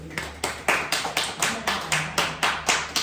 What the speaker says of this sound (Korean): 하나님께 이 시간 함께 영광의 박수를